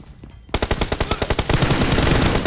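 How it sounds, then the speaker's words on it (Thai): Automatic gunfire in the mobile battle game PUBG Mobile: after a short quiet moment, a rapid, loud burst of evenly spaced shots rattles for about a second, then gives way to a dense, sustained roar of noise. "มีเสียงปืนทางขวานะ"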